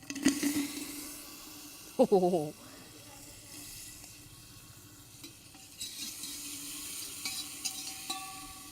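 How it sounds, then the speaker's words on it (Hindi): Doodhpitthi rice dumplings roasting lightly in ghee and oil, a soft steady sizzle with stirring scrapes and a brief clatter near the start, under faint background talk. "चलो अब इसको थोड़ा थोड़ा करके बहुत हल्का सा ही भूनना है"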